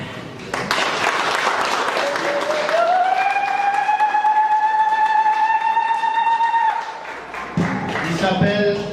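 Audience applause at a conference in France, a sustained wash of clapping for about seven seconds with a long rising tonal whistle or ululation riding over it before it fades.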